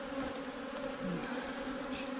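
Honeybees droning steadily around an open hive during a backyard honey inspection, a dense, close buzzing hum with a few individual bees passing nearer the microphone.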